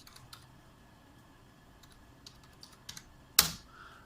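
Light, scattered keystrokes on a computer keyboard as text is typed into AutoCAD, quiet and sparse, with one sharper key press near the end and no voices.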